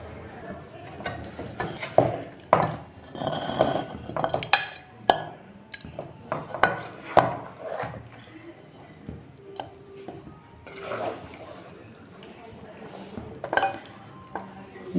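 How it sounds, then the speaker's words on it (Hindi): Beef shinwari is served into a dish, with irregular metallic scrapes, clinks and knocks of a utensil against a pot, close and moderately loud, with someone speaking at times. "तो अब मैं निकाल के आपको दिखाती हूँ, इसको डिश में निकालती हूँ।"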